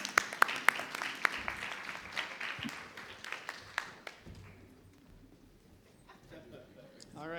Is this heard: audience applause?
yes